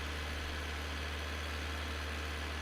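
A loud tractor engine idles in Farming Simulator 19, a steady, deep droning rumble that holds constant and close with no talk over it.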